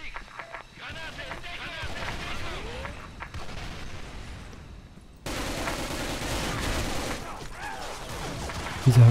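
Gunfire in the shooter game Special Force 2, bursts of shots and blasts running through the whole stretch, louder and denser in the second half, with a player talking over much of it.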